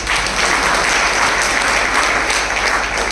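A crowd claps steadily and densely, a continuous wash of applause that stays loud and even from start to finish.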